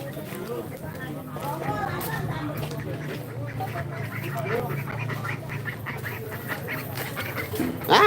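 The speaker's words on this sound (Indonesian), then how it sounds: "Ah, ada bebek." Duck quacking at an outdoor live music event in Kebon Beleq, Narmada, heard amid a dense crowd and background noise with people talking and a sound system running nearby.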